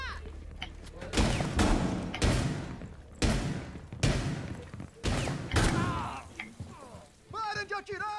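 Gunfire bursts in a Rainbow Six Siege match, several loud volleys of shots and thuds spaced through the stretch, with players talking over them.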